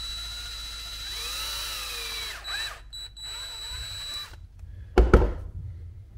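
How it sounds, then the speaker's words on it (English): A power drill runs through a homemade holster for a Streamlight TLR-1 HL weapon light, its close whine rising and falling in short bursts with pauses, then a sharp knock near the end. "I'm going to go ahead and run the drill through just to make sure everything's lined up good."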